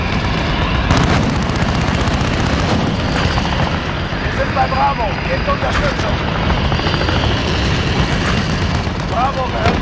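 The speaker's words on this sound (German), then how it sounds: "Verbündete Helikopter." An allied helicopter in Call of Duty: Modern Warfare thunders overhead with a loud, continuous rotor chop, mixed with booms, gunfire and clipped radio voices in the battle din.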